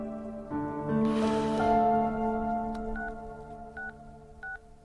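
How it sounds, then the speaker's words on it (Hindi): Three short electronic dialing beeps sound at even spacing after a brief rush of noise, with a steady hum beneath. "भाभी को फोन कर।"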